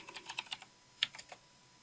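Quick bursts of keystrokes on a computer keyboard while entering a network server path, close and crisp, with a short pause before a final few taps; no voices.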